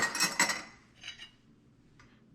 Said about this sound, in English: Now first, I will still stack my dishes.